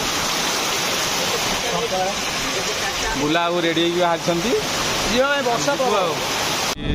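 Heavy rain pours down in a dense, steady roar from start to end, while people talk over it close by.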